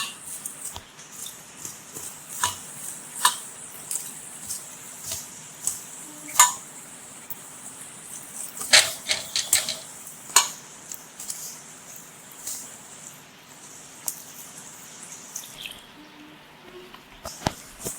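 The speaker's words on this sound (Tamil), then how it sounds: "தேவையான அளவு தண்ணி ஊற்றி கொஞ்சம் கொஞ்சமாக தண்ணி ஊற்றி பிசையணும்" Wheat flour dough mixed with turmeric is kneaded by hand as water is added little by little, making soft, irregular squishes, sticky slaps and an occasional clink of a bowl, close and fairly quiet.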